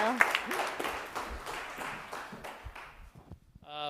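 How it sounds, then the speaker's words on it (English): An audience gives a final round of applause for competitors at a university pitch competition, a full burst of clapping that gradually thins and fades, with a voice starting to speak at the very end. "let's have a final round of applause for Faith and Foster"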